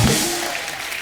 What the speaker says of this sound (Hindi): अनुपम सर के लिए जोरदार ताली हो जाए।